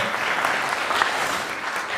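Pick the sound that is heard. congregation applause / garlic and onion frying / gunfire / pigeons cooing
congregation applause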